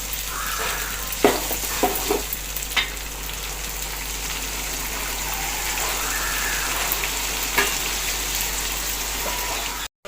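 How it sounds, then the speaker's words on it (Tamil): Curry leaves sautéing in hot oil for a curry leaf kuzhambu, a steady dense sizzle and crackle close up with a few louder pops and stirring clinks, no talking. "ஏற்கனவே ரைட்டாக வறுத்து வச்சுருக்கேன் எண்ணெயில் போட்டு வதக்கணும்"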